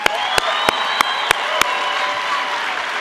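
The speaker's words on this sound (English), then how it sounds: "And folks, give them a round of applause." Sustained crowd applause for armed services members and veterans at the CPAC 2013 conference, loud and continuous with some cheering, punctuated by a few sharp, regularly spaced clicks early on.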